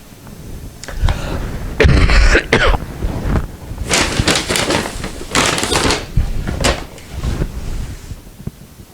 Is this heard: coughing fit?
yes